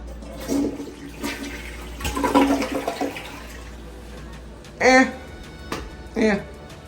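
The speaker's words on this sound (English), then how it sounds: "So let's do a flush test." A hotel toilet flushes in a newly built SpringHill Suites by Marriott bathroom, with a loud rushing swirl of water followed by gurgling refill bursts, heard close up with no talking.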